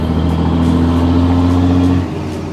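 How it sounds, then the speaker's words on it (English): A diesel truck accelerates with its turbo spooling, a loud, steady engine drone with a rising whine. The sound holds close for about two seconds, then eases off. "God, the turbo sounds good."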